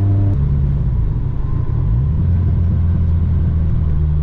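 A Subaru STI engine idles roughly in a humid East Coast climate. A loud, steady low rumble holds with slight uneven shifts in pitch, close and continuous, with no talking.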